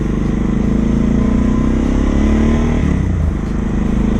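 A Suzuki DR motorcycle fitted with a ProCycle SS Pro-Flow exhaust headpipe runs steadily, its engine drone loud and close with a slight shift in pitch near the end, with no talk over it.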